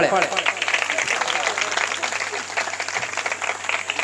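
Loud, dense applause from a crowd at a felicitation ceremony where a shawl and garland are presented to an honoree, sustained steadily throughout with a low hum underneath.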